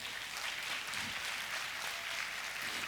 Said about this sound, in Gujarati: પૂજ્ય સ્વામીશ્રીના દાખલાને એકવાર ખૂબ તાળીઓથી વધાવો